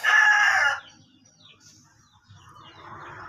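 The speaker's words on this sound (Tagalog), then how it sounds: "Ito manok guys." A rooster crows once, loud and close, a bright drawn-out call that cuts off abruptly, followed by quieter clucking and faint chicken sounds nearby.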